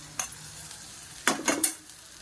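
Ginger-garlic paste and spices hit browned fried onions in a pan for a stuffed eggplant dish, giving a short faint tap then a brief burst of sizzling with stirring scrapes, close and without talk.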